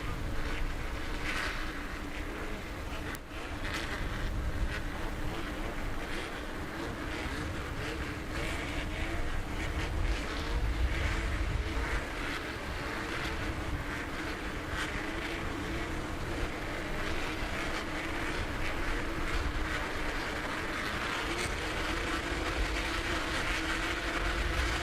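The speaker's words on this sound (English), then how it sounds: "You can hear the engines revving." Off-road race truck engines in the TORC Sportsman class rev on the grid at Crandon just before the green flag, making a loud, continuous, dense roar that stays steady throughout with no voices.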